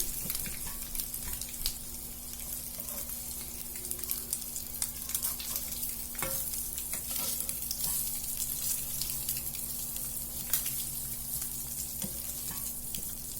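Eggs frying in a pan as they are turned, a steady close sizzle with scattered crackles and soft scraping stirs running throughout, no talking.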